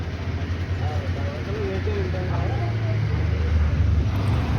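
A Jim Corbett safari vehicle's engine rumbles low and steady as the ride starts, with voices chattering faintly over it.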